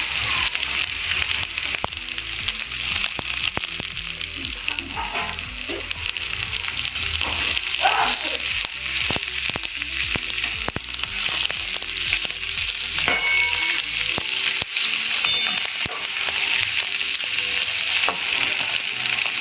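Chopped onion and capsicum frying in a pan for masala spaghetti pasta, a loud continuous sizzle with occasional stirring scrapes and clinks, no voices.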